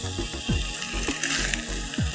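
Rice gently stirred in a frying pan for street-style fried rice, a continuous hiss of frying with soft periodic scrapes of the spatula.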